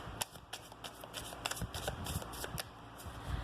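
Oracle cards being shuffled by hand, a run of quick crisp riffling and slapping bursts in an uneven rhythm, close and fairly soft, with no talking.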